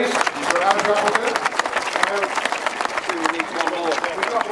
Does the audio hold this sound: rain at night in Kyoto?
no